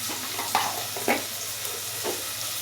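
Cinnamon and cardamom fry quietly in a pan, a soft steady sizzle broken by a few scraping stirs of a utensil.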